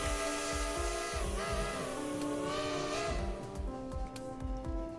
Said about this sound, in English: they can hop onto a train, start controlling it, blow the whistle, all that sort of stuff.